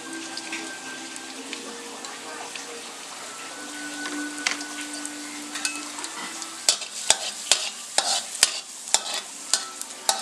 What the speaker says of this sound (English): Fry the garlic until it's fragrant.